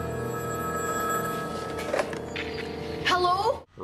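A telephone rings inside a jail cell in a TV episode, a trilling electronic ring that sounds steadily for about two seconds amid other soundtrack sounds. Higher warbling tones and a voice follow before a sudden drop to near silence.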